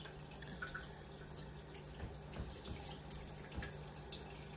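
Water runs from a tap into a cooking pot in a kitchen where game meat is being prepared, a quiet steady stream with faint splashes and drips, no voices.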